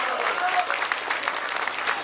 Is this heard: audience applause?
yes